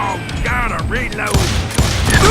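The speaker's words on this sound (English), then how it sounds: "Reload." A revolver being reloaded in Call of Juarez Gunslinger, with loud mechanical clicks and ratcheting over game sound and music.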